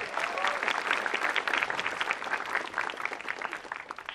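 Audience applause at a stand-up comedy show, a dense, steady wash of clapping filling the room for about four seconds with little variation, no speech over it.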